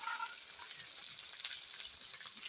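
Washed vegetables sizzle in hot oil in a pan, a faint, steady hiss with soft scraping as they are stirred, no voices.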